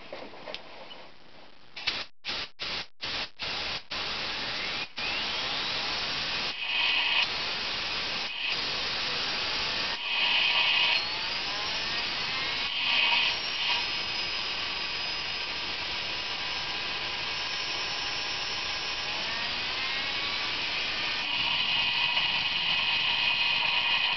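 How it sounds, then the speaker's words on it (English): Air-driven spin-up of a hand-cut turbo compound turbine hit with compressed air: a burst of sharp clicks, then a steady loud hiss with rising and falling whine tones that swell and fade over about twenty seconds. "we're going to hit it with some compressed air here to spin it up"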